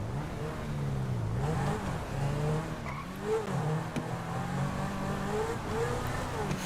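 A supercar in GTA 5 Online drives with a rising and falling engine note, revving through gear changes with brief tire squeal, loud and continuous without talk.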